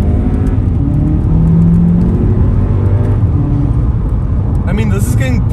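A VW Polo GTI facelift accelerates uphill through its gears, its engine a steady, fairly quiet whirring rumble close by, under continuous talk from the occupants.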